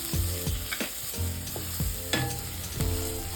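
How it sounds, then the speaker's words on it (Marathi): Coarsely crushed ginger, garlic and chili fry in hot oil for a Malvani-style prawn rice, with a continuous sizzle and several stirring scrapes of a spoon against the pan. "थोडंसं फ्राय करायचं, लसूण आणि आल्याचा कच्चा वास जाईपर्यंत भाजून घ्यायचं"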